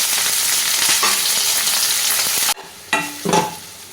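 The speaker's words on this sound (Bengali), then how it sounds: "আমার পেঁয়াজ রসুন সব ভাজা হয়ে গেছে" Chopped onion and garlic sizzle loudly in a pan for a couple of seconds, then the frying cuts off abruptly, followed by a few short clatters and scrapes.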